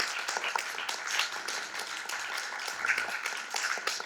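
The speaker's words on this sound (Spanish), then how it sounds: "Quisiera pedirle un aplauso para los autores de los textos" An audience applauds steadily, a dense patter of many hands clapping at moderate volume throughout.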